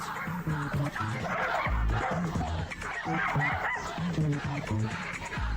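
A dog in a VR video game yelping and barking repeatedly after being shocked, a series of sharp yips and barks in bursts, close and clear over faint background sound.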